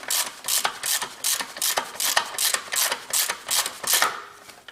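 A ratchet wrench loosens an engine mount nut on a Toyota Camry 2.4 VVT-i, giving a close, rhythmic run of rapid clicking bursts, about a dozen strokes in steady succession.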